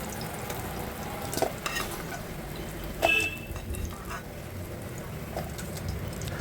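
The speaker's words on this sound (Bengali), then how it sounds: "দেখুন প্রত্যেকটায় আমি ভালো করে কড়া করে ভেজে একটা পাত্রের মধ্যে তুলে নিচ্ছি।" Jackfruit seed koftas deep-frying in oil until crisp: a continuous bubbling sizzle with occasional clinks and scrapes as pieces are turned and lifted out.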